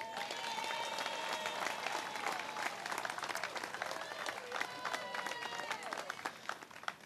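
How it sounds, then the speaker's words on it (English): Outdoor crowd applause at a Memorial Day service and parade gathering in Sylvan Lake, Michigan, greeting a congresswoman; broad steady clapping with some cheering runs the full length, with voices mixed in. "Let's give a warm applause and welcome to Congresswoman Brenda Lawrence."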